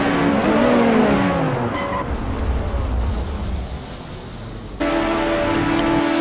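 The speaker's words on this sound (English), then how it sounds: "makes contact with Chris Hay, also moving to the centre, sending them both into the wall" Lotus 125 race cars at Imola scream past at high revs with falling engine pitch, then a harsh noisy rush as cars go into the wall, followed by a steady engine tone resuming, all loud and close.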